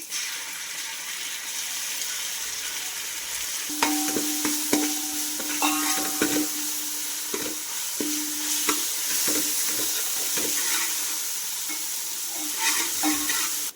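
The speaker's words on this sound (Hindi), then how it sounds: "अब मैं इसमें है ना अदरक लहसुन डाल रही हूँ।" Ginger-garlic paste and chopped onions frying in hot oil, a steady close sizzle broken by repeated scraping and clattering stirring strokes and brief tonal clinks from the utensil against the pan, with no talking.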